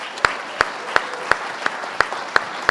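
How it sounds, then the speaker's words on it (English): An audience at the 2016 Adirondack Challenge claps in unison, about eight sharp, evenly spaced claps in a steady beat with a faint murmur between them. "But let's give her a warm round of applause as well."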